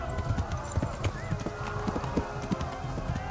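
Rhythmic hoofbeats of a horse clip-clopping along in the video game Kingdom Come: Deliverance, steady and fairly close, with a voice talking over them.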